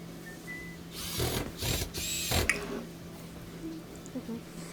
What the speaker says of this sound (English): Sometimes I use a screwdriver to help me.